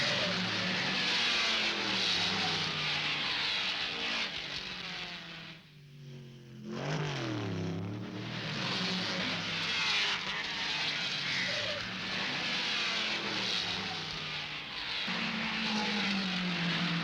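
A big Ford Galaxy and a pack of Ford Cortina race cars roar past at Crystal Palace in 1964, a loud, sustained engine drone with rising and falling pitch and a brief dip as cars pass.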